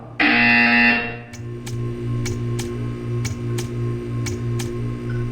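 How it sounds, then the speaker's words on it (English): A loud electronic buzzer blares for about a second in the video game Portal 2, followed by a steady low hum with a regular ticking pulse repeating roughly every second. "You will hear a buzzer. When you hear the buzzer, stare at the art."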